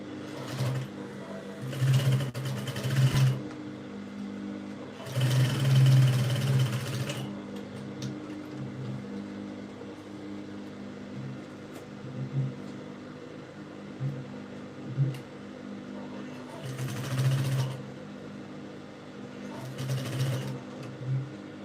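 A sewing machine stitches a princess-seam peplum blouse in repeated bursts of whirring, loud at first and then shorter, with quieter pauses between runs.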